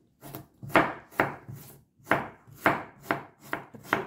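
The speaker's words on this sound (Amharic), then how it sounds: "ለመጠጥ እንደዚህ በትንሽ በትንሹ እያዘጋጀን እንከትፈዋለን ማለት" Fresh turmeric root is sliced thinly with a knife on a board for a drink, producing about nine crisp, evenly spaced chopping knocks, close and distinct with short pauses between cuts.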